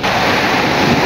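Strong sea waves crash onto the shore in a loud, continuous roar, with wind buffeting the microphone throughout.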